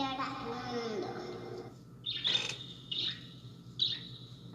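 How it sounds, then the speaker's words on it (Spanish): Small birds chirp in short, bright bursts, three or four separate calls spaced about a second apart, fairly close and clear, following a brief stretch of voice at the start. "Escucha esas voces de los pajaritos ahí."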